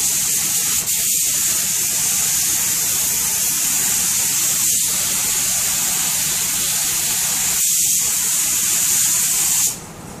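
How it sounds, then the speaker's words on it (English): Spray gun laying a 20 sheen finish coat on a Kindel table, a loud, steady close hiss that runs for about nine and a half seconds and then cuts off, leaving a quieter background. "I'm gonna hit a little coat of 20 sheen."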